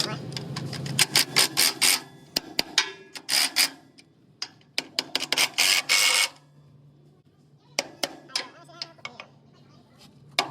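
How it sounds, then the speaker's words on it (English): Hammer tapping on a part in a mechanic's workshop, giving quick bursts of sharp metallic taps and clicks in uneven clusters with pauses, moderately close and partly under nearby talk. "I'll tap it with the hammer."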